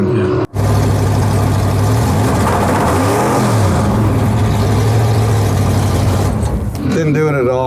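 A race car engine roars at full throttle during track testing, loud and close, rising and falling in pitch as it revs hard for several seconds before easing off, with voices briefly audible.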